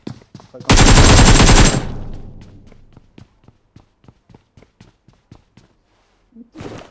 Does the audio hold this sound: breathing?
no